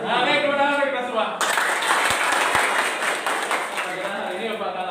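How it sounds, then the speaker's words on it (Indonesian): Students in a classroom break into applause after a teacher's cue, starting with him speaking and then a burst of dense, close clapping that gradually thins as his voice returns. "tepuk tangan kita semua"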